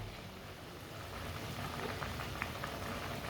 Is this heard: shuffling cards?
no